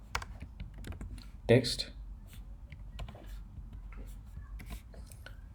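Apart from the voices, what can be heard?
typing code on a computer keyboard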